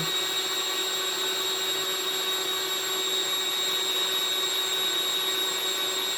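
A RadioShack 64-2060 desoldering iron's vacuum pump, paired with an 8586 solder station, sucks solder in a steady, loud hiss with a constant mechanical hum and no break.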